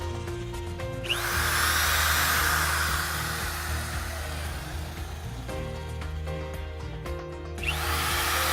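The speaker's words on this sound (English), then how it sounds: "Go ahead and drill 8 3/8-inch holes through the bottom of the cab floor to mount the bolts to hang the condenser." Power drill boring 3/8-inch holes through the bottom of a truck cab floor to hang an electric APU condenser, a loud steady whine running for several seconds, stopping briefly, then restarting near the end.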